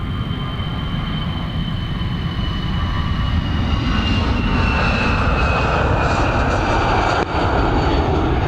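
An airliner's jet engines roar continuously at Dublin Airport as the Santiago-bound flight accelerates down the runway on takeoff, a loud, sustained rumble that holds steady throughout.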